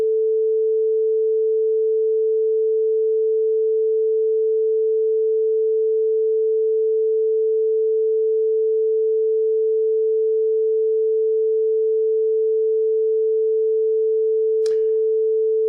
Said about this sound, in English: make sure that this amplitude oscillator here does the shapes it's supposed to do